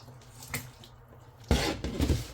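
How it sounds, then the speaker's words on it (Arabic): Broth from stuffed vegetables (mahshi) is poured off from the pot, with a sudden rush of splashing liquid after a few quiet clinks of cookware, then continuing gurgling pours. "رح نصفي المي المرقة تبعه."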